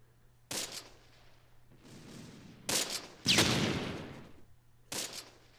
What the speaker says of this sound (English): Get the tank destroyer. He's firing at us.